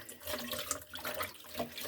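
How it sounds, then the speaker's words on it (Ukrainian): Cold tap water runs steadily into a kitchen sink while dishes are rinsed, a soft continuous splashing with occasional clinks, close but fairly quiet. "а тоді ми сполосимо холодну водою"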